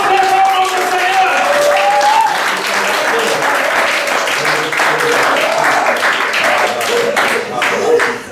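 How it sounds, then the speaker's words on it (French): A church congregation applauds and cheers in loud, sustained clapping that fills the room, with voices rising through it and a sung or spoken line carrying over the crowd. "Acclamons encore très fort notre Seigneur."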